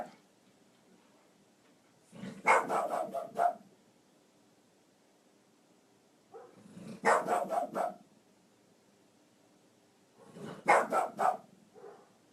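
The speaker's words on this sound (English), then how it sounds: "My vicious dog." A dog barks in three separate clusters of quick, sharp yaps spaced several seconds apart, moderately near, with quiet pauses between bursts during a casual morning livestream.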